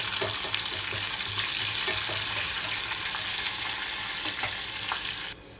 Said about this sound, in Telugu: చక్కగా ఉల్లిపాయలంతా కొద్దిగా కలర్ మారే వరకు వేయించుకుంటున్నాను